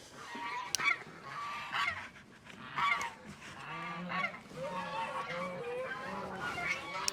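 Domestic geese at a home flock with laying hens honk repeatedly in harsh, overlapping calls at close range, with a few louder squawks standing out and faint background noise between them.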